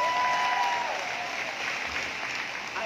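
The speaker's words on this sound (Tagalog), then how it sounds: "Ang hina ng palakpak nila." Thin, steady applause from a small crowd at a church anniversary gathering in Batangas, continuous for a few seconds at moderate level, with no voices standing out.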